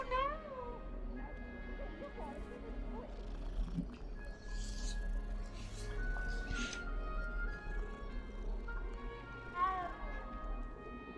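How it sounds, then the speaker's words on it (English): Cat in the video game Hogwarts Legacy, giving a short rising meow near the start and another brief mew later, over a low steady game music bed. "There's a cat."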